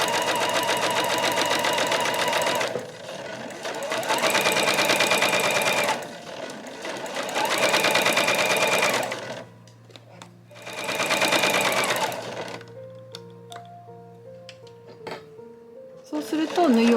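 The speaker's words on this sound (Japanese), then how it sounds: "端から7ミリを縫います。" An electric sewing machine stitches a fabric frilled scrunchie in several steady bursts of rapid, close whirring, separated by quiet pauses while someone talks softly.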